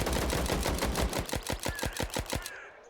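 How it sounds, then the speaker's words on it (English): A rapid run of evenly spaced gunshots from a firefight in the ZERO Sievert shooter, about a dozen crisp cracks in quick succession that stop abruptly, leaving near silence. "Multiple people got shot, or are in the process of getting shot."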